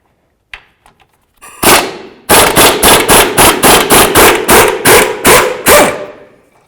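A hammer drives out a front lower control arm bolt on a Ford Crown Victoria, landing about a dozen loud, evenly spaced metallic blows close up after a few light taps.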